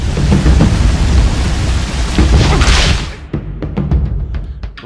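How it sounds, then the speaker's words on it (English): Heavy, dense rain mixed with rolling thunder in the God of War video game, loud and constant, then thinning into scattered sharp drips and cracks near the end. "It's pouring rain out."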